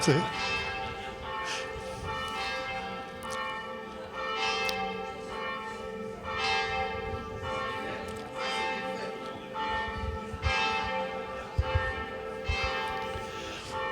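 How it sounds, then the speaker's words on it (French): Church bells ring continuously in repeated, overlapping strokes for the whole stretch, resonant and moderately distant, with faint background sounds beneath. "Généralement, c'est quand je suis à la maison que je fais sonner les cloches"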